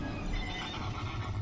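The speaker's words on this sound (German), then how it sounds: "Juhu, wir haben wieder Pegasus." A glowing pegasus mount in World of Warcraft gives a clear, close neigh over soft clip-clopping hooves, with no talking.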